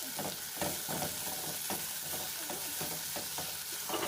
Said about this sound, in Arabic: خلاص كده انا نزلت بالبصلايه زي ما قلت لكم